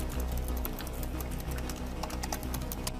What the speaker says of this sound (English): You have a chiclet style backlit keyboard,